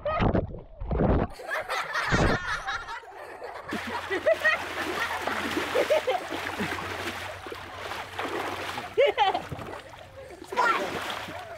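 Children splashing water in a swimming pool, bursts of splashing and sloshing amid excited voices, giggles and chatter, loud and close throughout.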